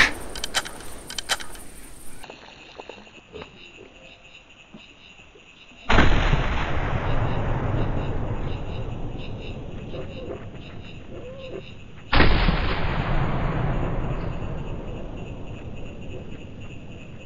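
A 20 gauge semi-automatic shotgun in the hunting game The Hunter fires two loud, close shots several seconds apart, each with a long fading echo, after a stretch of mechanical clicking and clattering. No one speaks.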